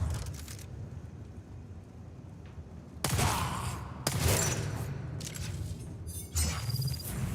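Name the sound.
gunshots in the video game Dune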